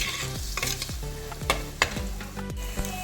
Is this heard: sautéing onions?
yes